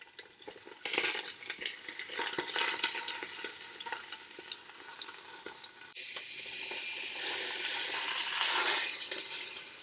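Beef short rib sears in a hot pan, a steady close sizzle with occasional clinks and stirring that swells into a louder, brighter frying hiss in the second half.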